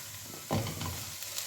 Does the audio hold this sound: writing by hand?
no